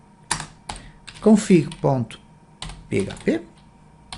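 Keystrokes on a computer keyboard while writing PHP code for a login system, a few short clicks and bursts of typing near the mic, with someone speaking over them.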